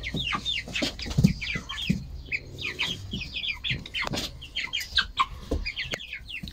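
Hens clucking and a rooster calling in a farmyard flock, with steady overlapping clucks and chirpy calls close by, alongside scattered bird chirps and no talking.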